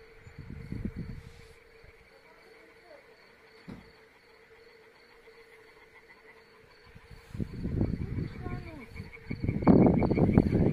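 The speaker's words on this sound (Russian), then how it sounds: "это когда жабы квакают" A steady, continuous trilling drone of toads croaking carries through the night air in a Ukrainian village, interrupted by bursts of nearby talking.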